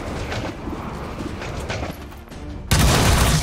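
Gunshots crackle in the turn-based strategy game XCOM 2, a scattered volley followed by a sudden, louder blast near the end.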